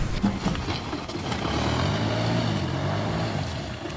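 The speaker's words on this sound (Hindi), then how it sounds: "अब की बार एम्बुलेंस का भी दिल पसीजा और उसके इंजन से घर घर की आवाज आने लगी।" A broken-down ambulance engine turns over and catches into a low, rough rumbling idle after being pushed, steady and fairly close, with no voices.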